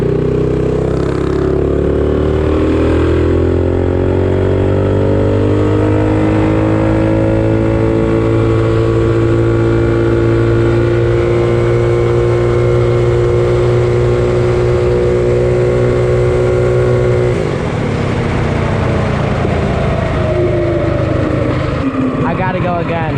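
Mega Moto 212 minibike engine on a top speed run, a loud, close, buzzing single-cylinder drone that climbs in pitch as it accelerates, dips, then winds up again, continuous with no talk.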